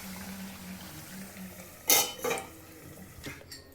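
A boiling pot of spicy sev curry is stirred with a spoon, giving a couple of close metallic scrapes and clinks against the pot over a soft simmering background, with no voices.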